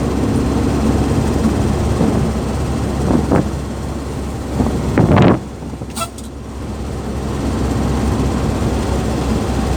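Strong afternoon wind at Balohan port in Sabang, a constant loud rush and buffeting against the microphone, with a vehicle passing and a brief horn toot partway through.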